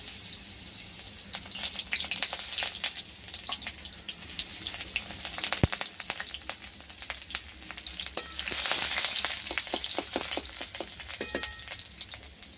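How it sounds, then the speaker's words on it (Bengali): Chopped onion sizzling in hot mustard oil in a wok, a steady crackling hiss with sharp spits and pops, swelling louder midway, close and without talk. "তেলটা গরম হয়ে গেছে, দেবো পেঁয়াজ কুচি"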